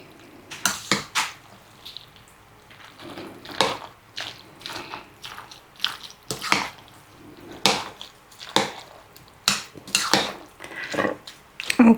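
Amish macaroni salad being stirred in a bowl with a utensil, producing a steady series of distinct scraping clinks against the bowl, roughly one every second, close and fairly loud with no talk.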